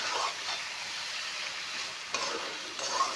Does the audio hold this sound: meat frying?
yes